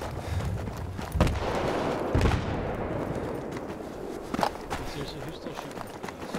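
Gunfire in a video game rattles through a busy, noisy mix, with a few sharp shots standing out over continuous rumble and scuffing movement.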